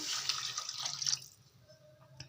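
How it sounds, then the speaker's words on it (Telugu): Water splashes steadily into a cooking pot of fish curry gravy for about a second, then stops, leaving a faint drip and quiet room tone. "ఇప్పుడు మన గ్రేవీకి తగ్గట్టు వాటర్ అయితే వేసుకుందాం"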